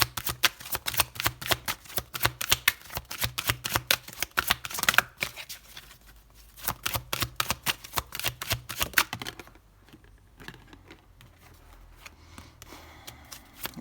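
Tarot cards being shuffled in rapid bursts of crisp, riffling flicks, close and fairly loud, with brief pauses and quieter stretches near the end, no voices.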